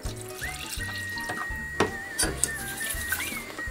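Broth is poured in small additions into a pot while cooking a mustard sauce, giving a splashing, trickling liquid stream with clinks and bubbly patter, close and continuous.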